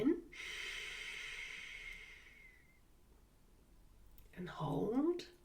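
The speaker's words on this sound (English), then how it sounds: "Breathe in." A person draws in a long, deep breath during a calming breathing exercise, a soft airy inhale that fades, followed after a pause by a short breathy exhale or snort.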